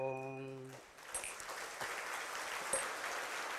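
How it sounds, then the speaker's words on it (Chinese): Audience applause at a Buddhist lecture on the Lotus Sutra, a sustained wash of clapping that starts abruptly after a brief tone and continues evenly at moderate distance, without speech. "谢谢各位的掌声"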